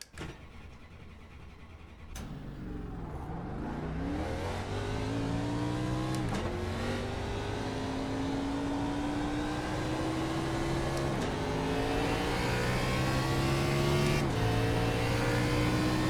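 An Xfinity stock car engine in iRacing on a hot track fires up and climbs through rising, revving harmonics that stretch across the run, loud and steady with brief throttle lifts between gear changes and no talking.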